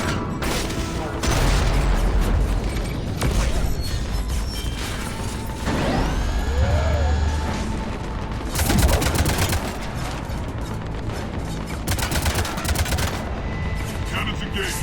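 Cannon blasts and rapid gunfire from the video game Mass Effect 3 sound loud and dense, with repeated bursts and booms, mechanical whirs and a sweeping whoosh, all packed into a sustained battle din.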